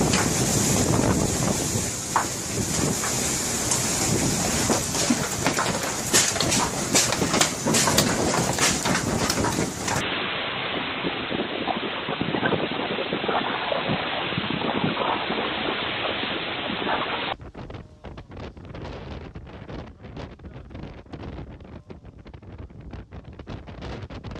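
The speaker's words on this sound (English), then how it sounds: "a powerful storm swept across much of Alaska, bringing hurricane-force winds, coastal waves" Powerful storm sweeping across coastal Alaska with hurricane-force winds and coastal waves, a dense, continuous roar of wind buffeting the microphone and crashing water, loud and unbroken throughout with abrupt shifts in tone between segments.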